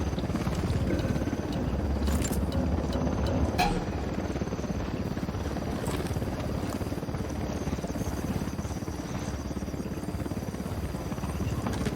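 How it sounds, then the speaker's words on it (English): A helicopter in the video game Ghost Recon gives a continuous loud rotor thrum and whine throughout, with brief clinks and a voice under it. "Hit the dirt, helicopter."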